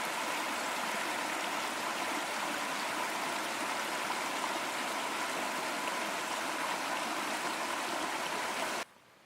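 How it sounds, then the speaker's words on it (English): Small stream running through bare November forest near Kingscote Lake in Algonquin, a steady close rush of flowing water that cuts off abruptly at the end, with no voices. "Nice waterfalls and little streams coming down everywhere."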